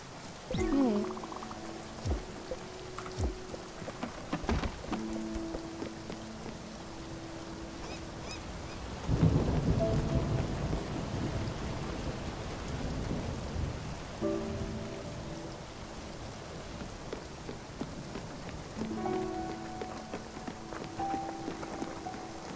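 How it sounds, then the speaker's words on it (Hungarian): A rainstorm in the Spiritfarer video game hisses steadily throughout, with a heavier rumbling swell near the middle, while soft game tones and chimes play over it. "Beleértünk a viharba."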